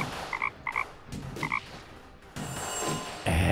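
In the Deponia adventure game, a frog croaks in short paired bursts over a busy background of game sound, then the scene grows noisier toward the end.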